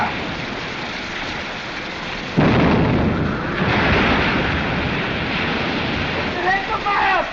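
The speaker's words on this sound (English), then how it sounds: "Fire that gun, Negro." A ship's cannon fires with a sudden loud broadband blast that rolls on into sustained rumbling amid shouting voices and battle din.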